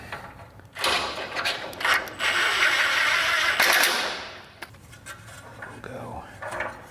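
Tightening fasteners during installation of one-touch electric attic stairs, a run of ratcheting, grinding mechanical noise lasting a few seconds at close range, followed by lighter clicks and rubbing while a person talks.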